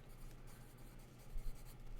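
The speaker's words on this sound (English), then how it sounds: "I'm going to write that down." Pen scratching steadily on paper during a knitting-themed livestream, continuous soft strokes with a low hum behind, close and quiet.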